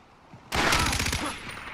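A 12-gauge shotgun blast in the video game Far Cry 4, a single loud, sudden close shot followed by a rattling, decaying burst.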